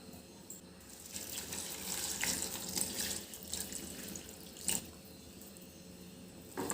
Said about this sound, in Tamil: இதை வந்து நம்ம ஃபஸ்ட்டு வாஷ் பண்ணிக்கலாம்.